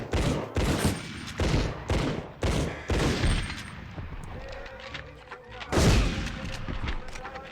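Enemy rocket launcher firing in Medal of Honor on PS1, loud repeated blasts and booms in an irregular burst, with a heavy impact near the end.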